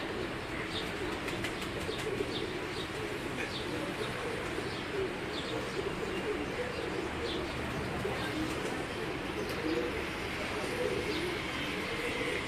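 Lakhi breed pigeons coo in a dense loft, a steady low burbling wash of many birds layered with faint chirps, continuous and fairly loud throughout with no break.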